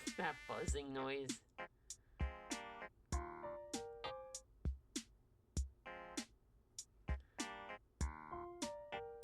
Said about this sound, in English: There's that mosquito music again.